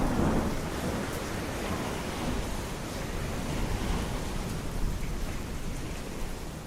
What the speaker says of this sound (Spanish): Una noche entera de truenos, rayos y unas olas enormes.